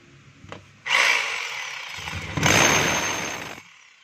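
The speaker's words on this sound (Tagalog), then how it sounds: "So iti-testing natin yung hammer mga kabay kung meron pa." A DeWalt D25032 rotary hammer running in hammer mode, two loud close bursts of rapid hammering whine, the first about a second and a half, the second slightly longer, with no talk.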